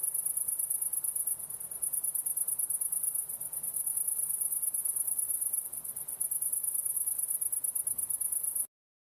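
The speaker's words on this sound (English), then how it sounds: "Cricket sounds." A cricket chirping sound effect plays as a steady, high, rapid trill that runs almost continuously for several seconds, with a few brief gaps, alone and fairly loud before stopping abruptly.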